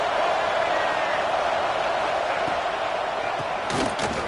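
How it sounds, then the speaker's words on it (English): Stadium crowd at a college football game in an NCAA football video game, a steady loud roar of many voices filling the whole stretch, with a few sharper bursts near the end. "It's early, but this crowd is fired up. Listen to this noise here."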